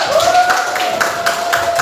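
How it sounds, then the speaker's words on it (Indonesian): A classroom group claps together during a coding teacher training session, a few uneven rhythmic claps under a faint steady tone, without speech. "Kelompok Merangin, kasih tepuk tangan dulu."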